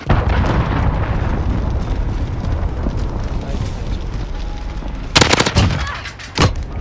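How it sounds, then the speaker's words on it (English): Cruise missile strike explosions in Call of Duty: Modern Warfare, a loud burst of booming blasts arriving after a stretch of steady gunfire and rumbling battle noise. "Allied cruise missile launched"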